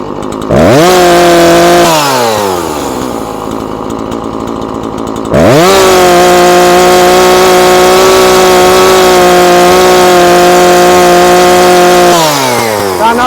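A Husqvarna 340 chainsaw engine, undergoing carburetor adjustment, runs close and loud: it revs up sharply, drops to a lower idle, then climbs to a sustained high whine for several seconds before easing back down.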